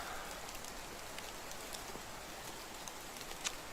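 Rain falls steadily in the medieval village world of Medieval Dynasty as a soft, even hiss with a few faint drop taps, distant and low in level, with no talk.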